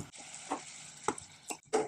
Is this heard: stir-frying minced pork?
yes